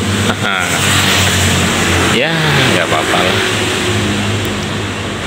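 A worn old motorcycle's engine revs up and down up close, rising and falling whines over a rough, steady idle, while someone talks over it.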